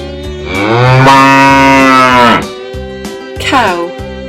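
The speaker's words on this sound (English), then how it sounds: "Cow." A cow on a farm gives a long, loud, close moo followed by a shorter second low call, set against a light rhythmic music backing.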